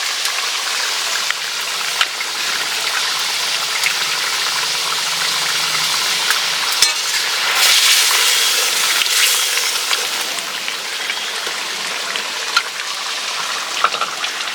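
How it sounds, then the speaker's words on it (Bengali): Lote fish curry sizzling steadily in a pan as green chillies are added, a continuous close frying hiss with small crackles throughout. "আমি এখন কাঁচা লঙ্কাটা দিয়ে দিচ্ছি।"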